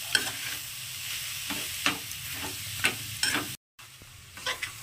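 Sticky coconut and jaggery filling stirred in a pan over a gas flame, with repeated scraping strokes of a spoon and a soft sizzle underneath, close and steady with a brief gap near the end.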